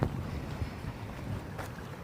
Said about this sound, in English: it's a fairly windy day here in Penticton